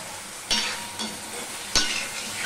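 Potatoes with turmeric being stirred in a sizzling pan, a spoon scraping and knocking against the metal in a few distinct strokes over a steady background fry.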